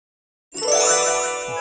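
A bell in a cartoon children's shape-guessing game rings with a single bright struck ding after brief silence, its shimmering metallic overtones holding and slowly fading.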